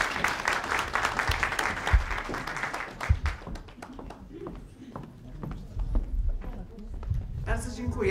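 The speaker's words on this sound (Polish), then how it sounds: "I brawa dla Doroty." An audience at an agricultural climate panel gives a round of applause, dense at first and then thinning into scattered claps, fairly quiet, with a voice speaking near the end.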